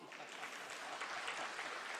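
An audience at a centenary celebration claps in a dense, even patter of applause that holds steady for a couple of seconds, moderately distant.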